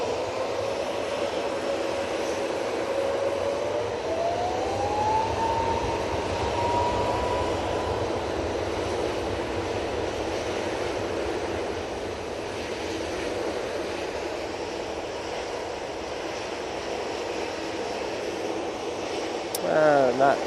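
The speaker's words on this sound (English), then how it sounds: "The 737 MAX 8's off to Rios." A Boeing 737 MAX 8 roars down the runway at Manchester Airport on takeoff, a steady broadband engine rush with a slowly rising whine, held loud for the whole span and ending with a brief clatter.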